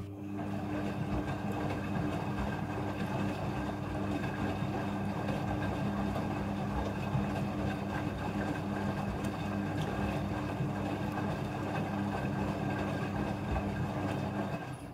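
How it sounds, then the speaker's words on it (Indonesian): A front-loading washing machine fills with water for rinsing towels, giving a steady, continuous hum and rushing flow at an even low level throughout. It is heard alone without talk. "Pada proses pembilasan dengan air, mesin cuci akan mengatur jumlah kebutuhan air secara otomatis."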